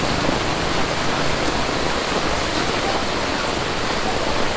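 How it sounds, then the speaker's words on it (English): Heavy rain pours down in Vietnam as a dense, even hiss of water, loud and unbroken, with no distinct drops standing out. "I'm not going anywhere until this rain stops."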